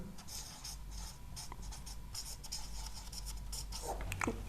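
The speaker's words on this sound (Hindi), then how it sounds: "मैं लिख देता हूं" Marker or chalk writing on a classroom board, continuous scratchy rubbing strokes close by, moderately loud over a low background hum, with no talking during the writing.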